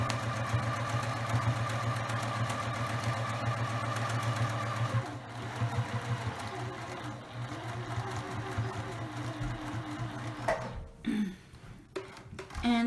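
A sewing machine stitches placemat fabric with a steady, close mechanical whir that runs without a break for several seconds, then stops and gives way to softer handling noises and a few short mechanical clunks.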